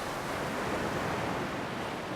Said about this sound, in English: The sound of the sea is no longer sweet to my ears.